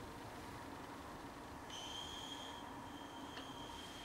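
An Aster Gauge 1 live steam locomotive runs on a garden railway, a steady soft hissing rumble with a thin high whistle-like squeal appearing midway, faint and continuous.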